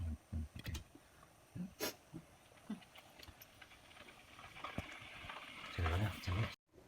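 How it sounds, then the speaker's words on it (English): Hot water poured into chicken simmering with tomatoes for Filipino kinamatisan na manok, a rising hissing, bubbling wash of liquid near the end, preceded by clatter and spoken voice throughout. "I'm gonna pour a little bit of hot water in it."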